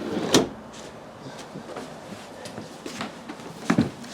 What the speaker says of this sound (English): This slides open, and then you have drawers that pull out.